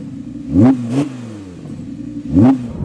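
An Audi R8 V10 with particulate filters and a muted exhaust revs twice in quick bursts, then a third time, each a short rising roar that falls back to a steady idle, close and fairly loud.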